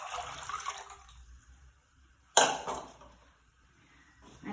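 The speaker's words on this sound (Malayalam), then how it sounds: "കുറച്ച് വെള്ളവും കൂടി ചേർക്കുക" Water added to thin second-press coconut milk heating in a pot on a gas stove for Kerala-style pidi makes one brief, close splash that quickly fades, with quiet kitchen noise around it and no talk.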